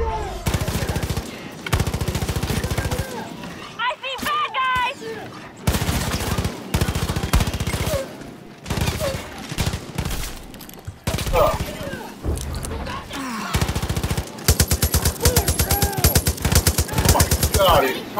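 Video game gunfire from Far Cry New Dawn, with repeated rapid bursts of automatic fire and single shots across the span, loud and close, broken by short pauses while a player talks.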